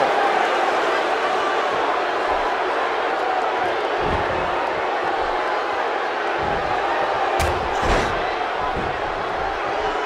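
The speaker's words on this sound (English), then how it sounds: "When you listen to this crowd, they're absolutely electric." Wrestling arena crowd from the WWE 2K17 video game in a Hell in a Cell match, a steady loud roar of cheering filling the whole stretch, with a few sharp slam-like hits near the end.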